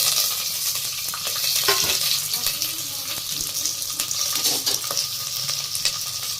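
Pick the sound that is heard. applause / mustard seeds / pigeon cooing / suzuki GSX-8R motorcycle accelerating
mustard seeds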